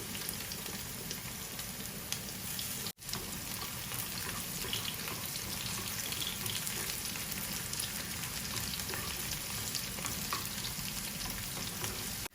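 Garlic fries with onions in a pan, a dense steady crackling sizzle heard up close for several seconds, with a brief dropout partway through and no speech.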